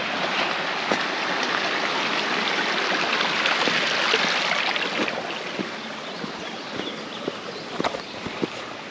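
A small mountain river rushes steadily on an alpine hike, a continuous broadband wash of flowing water with a few faint clicks and knocks scattered through it, close and even throughout.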